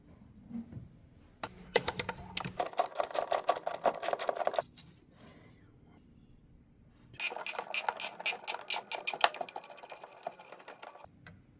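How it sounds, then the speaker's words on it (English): Rapid mechanical whirring and clicking from a tool working bolts loose on a Porsche Cayenne air pump, in two bursts of several seconds each separated by a quiet pause, close and fairly faint. "There's a couple of bolts on the side. We'll unscrew those."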